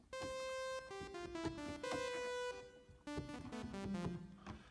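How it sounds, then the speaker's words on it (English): A plain, bright default tone from a Casio XW-P1 synthesizer, rich in overtones, sounds a short run of held notes, each changing pitch, with no voices. "which is just a single tone."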